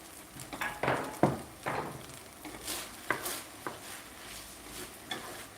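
Teriyaki chicken stir fry being moved around a pan, irregular scrapes and clacks of a utensil against the pan over a faint sizzle, close up, with no one talking.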